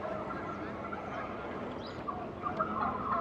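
Turkeys gobble on a city street in Washington, DC, their calls rising and clustering toward the end over a steady bed of outdoor street noise, with no voices heard.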